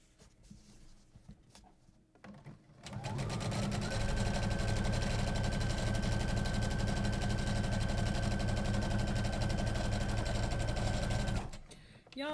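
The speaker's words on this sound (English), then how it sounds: "now we're just going to top stitch that down a 1/4 inch towards our bottom panel" A sewing machine top stitches a quarter-inch seam down toward the bottom panel of a foam-lined tote bag, starting after a few quiet seconds and running as a steady, loud, continuous mechanical whir for about eight seconds before stopping.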